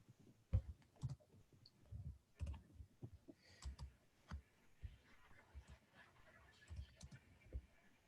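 A computer keyboard clicks in uneven bursts of quiet keystrokes, faint and close in a quiet room, with brief pauses between runs of typing.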